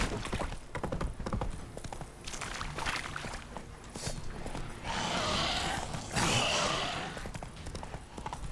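Roach the horse's hooves clip-clop steadily in The Witcher 3, a busy run of close rhythmic thuds with a brief rushing, hissy swell partway through and no voices.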